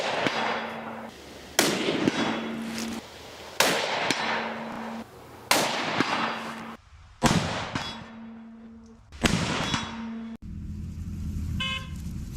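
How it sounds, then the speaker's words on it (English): A rifle fires test shots after reassembly, six sharp loud reports spaced a second or two apart, each with a ringing decay and a faint tone between them, no talking. "So please bear with me while I take some test shots."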